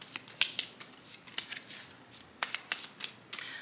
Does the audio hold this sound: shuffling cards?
yes